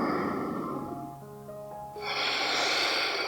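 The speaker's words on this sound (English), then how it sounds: "Just take a few nice deep breaths here." Slow deep breathing during a yoga cool-down, a long airy inhale or exhale, a quieter pause, then another breath rising again, close and soft against a faint background tone.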